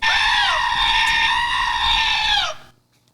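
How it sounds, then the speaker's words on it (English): A goat from Thor: Love and Thunder lets out one long, loud, human-like scream that holds steady for about two and a half seconds, then cuts off into near silence. "the screaming goats from Thor: Love and Thunder"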